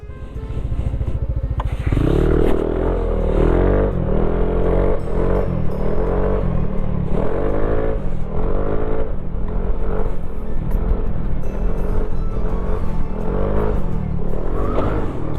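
A modified Yamaha Aerox 155 scooter ridden on an open track, its engine droning loudly and continuously with repeated rising and falling revs close to the microphone, no talk.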